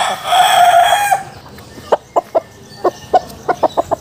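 A young rooster, a stag, crows loudly and close for about a second, then breaks into a run of short, sharp clucks spaced irregularly against a quiet background.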